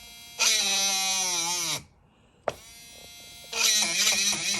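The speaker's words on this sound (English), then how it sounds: "with this little tiny Dremel, you don't want to go more than maybe an inch deep" Small, weak Dremel rotary tool drilling in short bursts: a loud high-pitched whine that bogs down and stops, a brief silence with a click, then the motor whines again.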